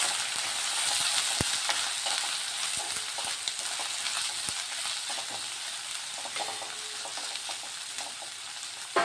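Onion frying in a pan for a paneer curry, a quiet steady crackling sizzle stirred with occasional spoon taps, alone with no voices.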